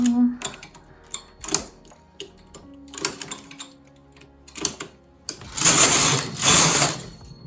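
Knitting machine carriage working cable stitches, giving a series of clacking, rattling passes with short gaps between them and two louder, denser sweeps near the end, close by and alone.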